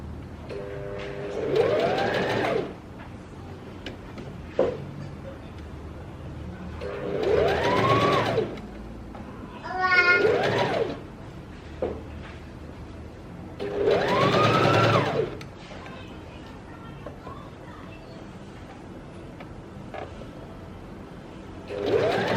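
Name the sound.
sewing machine stitching a Rosaleen dress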